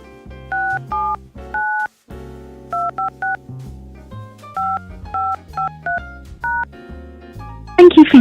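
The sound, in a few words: telephone keypad DTMF tones entering a PIN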